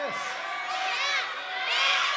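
A crowd of children cheers and shouts loudly together during a Sunday church service, a continuous wash of excited voices rising in bursts over about two seconds.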